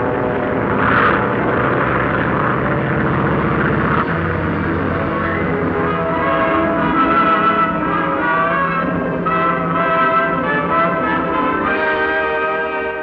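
A propeller airliner of Can-Can Airlines departs, its engines droning loudly and steadily with a rough pulsing hum throughout and no talk over it.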